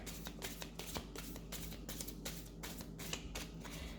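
Symbolon oracle cards being shuffled by hand: a steady run of soft riffling flutters and papery slaps, close and continuous, with faint background hum and no talking.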